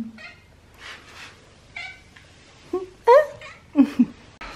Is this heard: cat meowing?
yes